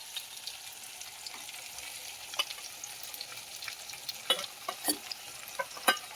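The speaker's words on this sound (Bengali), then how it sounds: "আমার কচু আর আলুটা ভালো করে ভাজা হয়ে গেছে" Taro and potato pieces sizzle steadily while frying in a pan, with a constant hiss broken by sharp scraping clicks as a spatula stirs them, close and clear with no talking.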